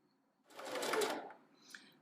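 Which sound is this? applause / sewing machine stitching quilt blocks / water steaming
sewing machine stitching quilt blocks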